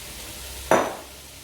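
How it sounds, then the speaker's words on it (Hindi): Cooked rice stirred into fried vegetables and cabbage in a pan: one sharp scrape with a short sizzle partway through, against a low, quiet frying hiss. "चावलों को भी मिक्स कर लेंगे सब्जियों के साथ"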